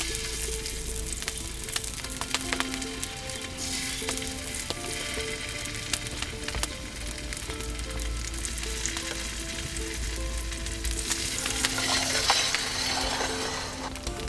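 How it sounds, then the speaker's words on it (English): Potatoes fry in hot oil in a pan for fondant potatoes cooked in a wood-fired oven, giving a steady, dense sizzle throughout with occasional faint clinks and no speech. "When the oil is nice and hot, I'll add all the potatoes."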